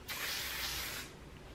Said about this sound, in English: I give it a light spray.